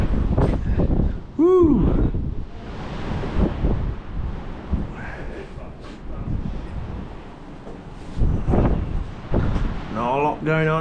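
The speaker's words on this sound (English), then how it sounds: "God, that wind's picking up." Strong wind gusts in Wales, roaring and buffeting the microphone in surges, while someone talks and lets out a shout over it.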